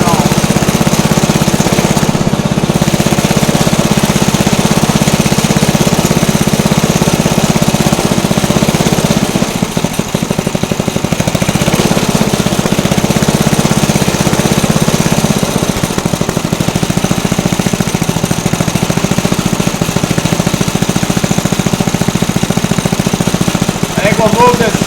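A ripper machine's engine runs steadily with a spinning wheel, giving a loud continuous droning rumble with a hammering vibration throughout.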